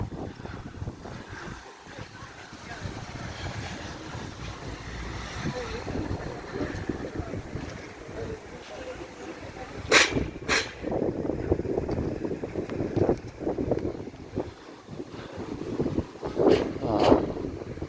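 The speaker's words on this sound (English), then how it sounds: "A bit fresh and a strong wind like we got at the moment." Strong coastal wind at Corralejo, Fuerteventura, in the Canary Islands buffets the microphone with a steady roaring rush and sharper gusts, and a voice talks over it.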